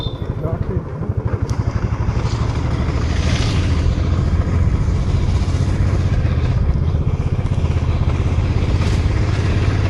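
Royal Enfield Standard 350 ridden along a mountain road in Kerala, its single-cylinder thump loud and steady under heavy wind rush, with riders chatting over the engine.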